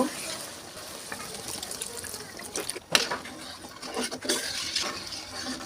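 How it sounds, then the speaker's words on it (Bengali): Broth is poured into a simmering pot of sea fish curry with taro, making a continuous close liquid splashing with a brief clatter midway. A voice is faintly heard under it. "এখন আমি এটার উপরে আরও ঝোল দিয়ে দিব"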